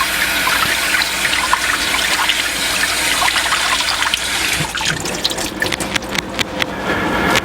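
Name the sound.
broccoli being rinsed under running cold water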